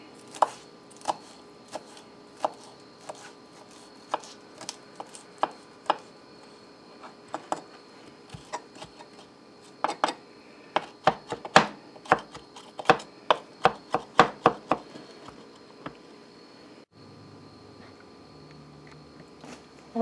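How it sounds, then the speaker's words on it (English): A knife finely chops a folded sprig of mint on a board, starting with sparse single cuts that build into quicker clusters of sharp, close taps, then stopping near the end. "I'm going to take the sprig of mint and fold it up here a little bit and just chop this real fine to put in the sauce"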